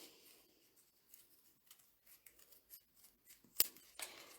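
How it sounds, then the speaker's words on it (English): Scissors trim excess paper away from a folder for a homemade After Eight mint treat wallet: faint, quiet snips in an irregular series, ending in one sharper, louder cut near the end, with no talking. "we're just going to trim off the excess of the paper. So we're just trimming right up to our folder,"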